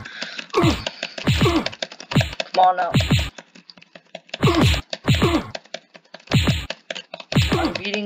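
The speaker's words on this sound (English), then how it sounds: "I'm beating my keyboard really hard just to kill this guy" A computer keyboard hammered hard during gaming, heavy clustered keystrokes in uneven bursts, close and loud, with a man muttering between them.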